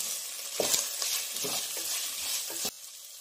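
Onions fry with ginger garlic paste in a pan for mushroom curry, a steady sizzle broken by several scraping stirs close by before the stirring stops.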